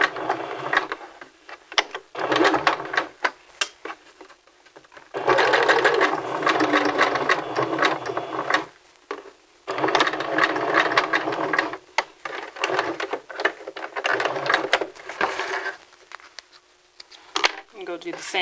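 A sewing machine set to a 2.5 stitch length sews a men's vest in several loud, close bursts of whirring stitching, separated by brief pauses and fabric handling, with no talking.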